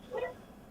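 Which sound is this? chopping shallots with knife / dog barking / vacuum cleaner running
dog barking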